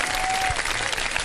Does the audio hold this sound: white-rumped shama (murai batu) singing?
no